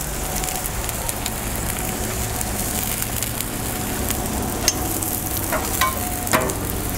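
Eggs fry on a Blackstone flat top griddle alongside sausage and bacon, giving a steady, close crackling sizzle with a few sharper pops near the end.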